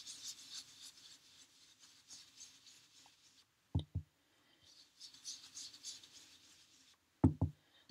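A blending brush is worked over crumb cake cardstock to spread ink, giving a faint, soft swishing rub in two bursts, each ending in a couple of sharp taps or knocks.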